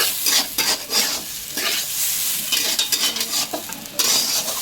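Frying and stirring in a kadai, likely for basanti pulao, with a steady loud sizzle broken by repeated scraping and stirring strokes, close up and with no talk.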